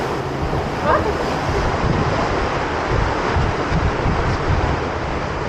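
Water rushes and splashes around a rapids ride boat at Portaventura, a dense, steady roar buffeted by wind on the microphone with brief faint vocal sounds.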